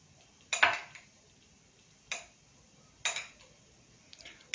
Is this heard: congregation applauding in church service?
no